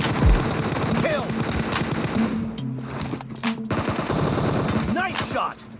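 Rapid automatic M416 rifle fire in a multiplayer shooter, loud close bursts repeating in quick succession with brief gaps, over game effects and a faint voice.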